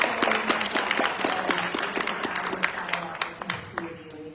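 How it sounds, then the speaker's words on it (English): An audience at a leadership forum applauds, a dense wash of clapping that fades out toward the end, while a voice talks through it. "I do want to just give another round of applause for Dr."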